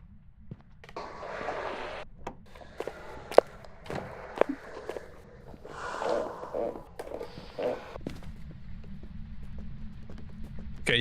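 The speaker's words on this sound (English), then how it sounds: "Okay, you can hear the footsteps." Footsteps in the Phasmophobia ghost-hunting video game: a run of muffled, irregular thuds moving through a quiet house, moderately loud and with no talk over them.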